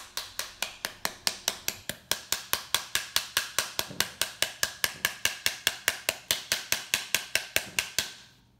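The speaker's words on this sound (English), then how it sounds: "Use a wooden spatula to smack the skin of the pomegranate till the seeds fall out." A wooden spatula smacks the skin of a halved pomegranate to knock the seeds out: about thirty-five hard, close knocks in a fast, steady rhythm of roughly four per second, with no talking.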